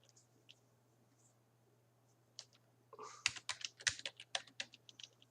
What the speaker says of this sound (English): I'm typing this on screen.